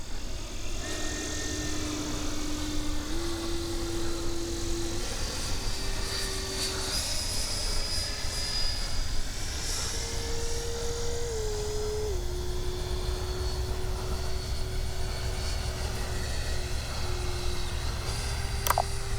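A Freewing 70mm F9F-5 Panther RC jet makes a slow pass with its landing flaps down. A steady ducted-fan whine holds throughout and shifts gently in pitch as it passes, with no talk.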